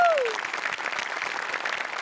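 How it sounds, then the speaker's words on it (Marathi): Studio audience at the Marathi comedy show Maharashtrachi HasyaJatra claps in a steady, dense patter, fairly soft throughout, with a brief musical sting fading out at the very start. "मोठ्यांसाठी एकदा जोरदार टाळ्या."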